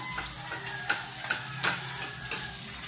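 Breakfast frying in hot oil in a home kitchen, a steady close sizzle with a spatula scraping and tapping the pan every half second or so, no voices.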